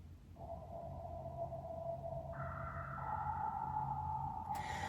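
Ambient, spacey synth pad from Omnisphere, soft sustained tones that step up in pitch and layer over a low murmuring bed, quiet and even, ending in a brief airy shimmer.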